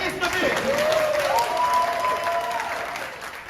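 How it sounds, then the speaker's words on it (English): An audience applauds the first grand champion of a Warhammer Age of Sigmar tournament, dense steady clapping filling the room and tapering slightly, with a voice speaking over it. "give us a round of applause for our first ever Wartilyo Grand Champion, Dennis David."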